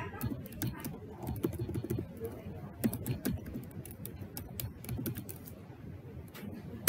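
Quick, light clicks of a computer keyboard being typed on, irregular and fairly faint, with short bursts and pauses and a soft voice speaking in the background.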